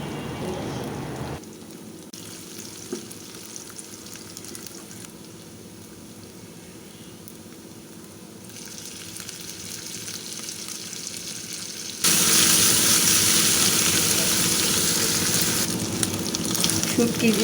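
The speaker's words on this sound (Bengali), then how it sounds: "তারপরে রসুনটা যখন একটু ভেজে আসবে, লালচে হয়ে আসবে, তখন দিয়ে দিলাম শুটকি।" Garlic and dried fish fry in a pan with a continuous close sizzle that grows louder and brighter partway through as the fish goes in.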